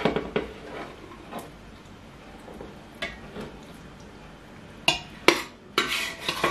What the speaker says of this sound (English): So I have to take out the beans from the pressure cooker and transfer it into the